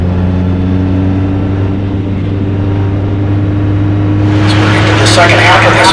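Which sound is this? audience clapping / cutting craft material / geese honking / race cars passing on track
race cars passing on track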